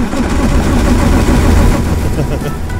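Green John Deere tractor in the Dead Acres farming game, its engine with a failing starter churning loudly and steadily throughout, a dense low rumble close up.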